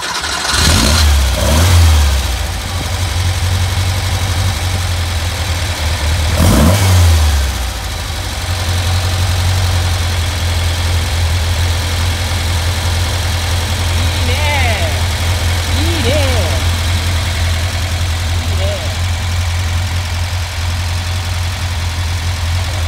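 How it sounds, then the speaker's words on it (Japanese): A Porsche 911 engine cranks and catches, revs briefly, then settles into a steady low idle, with a second rev around seven seconds and faint voices later. "エンジンかけてみる"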